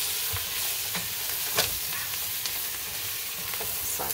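Chunks of cheap stew meat sauté for a Hungarian goulash with paprika, a loud steady sizzle close up, punctuated by several spoon scrapes and stirs against the pot.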